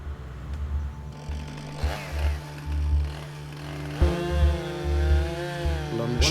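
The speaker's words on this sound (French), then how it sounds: "Chaque jour, les tronçonneuses coupent d'immenses troncs aussi facilement que des bananes mûres." Chainsaws cut through huge tree trunks at a forest logging site, their engines revving and dropping in repeated surges over a continuous idling drone, fairly close, with no talking.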